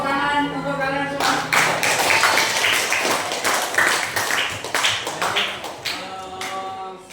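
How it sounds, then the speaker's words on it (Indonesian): Students clapping in a classroom, a burst of sharp, close hand claps that starts after a second of speech and continues in uneven bursts to the end. "Tepuk tangan untuk kalian semua"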